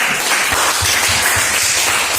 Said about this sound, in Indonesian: kita tepuk tangan untuk Maden.